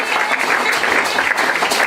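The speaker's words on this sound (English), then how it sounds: "Clap your hands." A church congregation claps hands together, a dense steady burst of many hands that continues without a break through the whole short stretch, near and lively.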